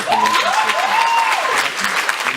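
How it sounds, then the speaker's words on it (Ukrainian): A hall audience applauds steadily and loudly at a student arts event in Belarus, dense clapping throughout, with a rising and falling tone and a few short musical notes underneath. "Под ваши аплодисменты, пожалуйста, поддержите наших друзей."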